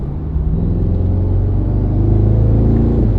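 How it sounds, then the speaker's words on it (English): 2026 Aston Martin Vantage Roadster engine under way, a loud, close, continuous rumble from inside the car that rises gradually in pitch as it accelerates, with a faint whir of the turbo spooling. "you can kind of hear the turbo spooling"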